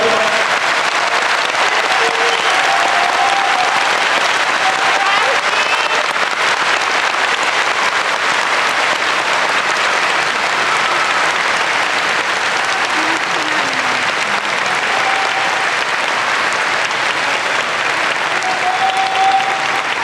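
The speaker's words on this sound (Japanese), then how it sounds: "どうぞ皆さんに今一度大きな拍手を。" A big audience claps continuously at a sumo retirement ceremony where the wrestler's topknot has just been cut, a steady, full wash of applause with faint voices mixed in.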